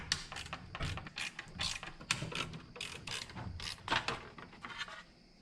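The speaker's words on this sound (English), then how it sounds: "when I hit the headlight switch, everything's plugged in. She'll pop right up." Headlight motor on a 1986 Pontiac Fiero GT raising the headlight after a rebuild, heard up close as a run of rapid ratcheting mechanical clicks and gear whirring without pause.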